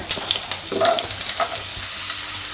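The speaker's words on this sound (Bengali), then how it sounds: "আলুটাও আমি একসাথে ভেজে নেব" Loud, steady sizzling of carrots and potatoes frying in hot oil for a mixed vegetable dish, with occasional stirring scrapes and crackles.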